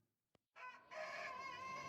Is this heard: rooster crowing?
yes